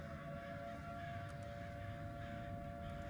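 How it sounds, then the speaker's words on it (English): A faint, steady siren tone in the video game Summer of 58 drones continuously at a distance, holding one pitch over low background rumble. "There's a siren going off."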